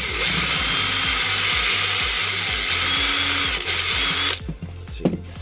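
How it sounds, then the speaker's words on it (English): A power drill with a 2.5mm bit bores out a rivet on a horsebox repair, whining in rapid repeated pulses for about four seconds before cutting off into quieter clatter. "I drill out this rivet, hopefully."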